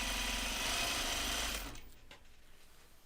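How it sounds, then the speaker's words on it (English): Sewing machine stitching interfaced denim jeans pieces, a loud steady motor whir running alone for about a second and a half before cutting off into quiet room noise. "So do your best to try and sew this accurately."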